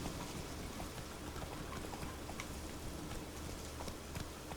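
Roach the horse's hooves clip-clop steadily in The Witcher 3, a continuous rapid patter of footfalls blended into a dense, even wash of ambient noise that could be rain, with no pauses throughout.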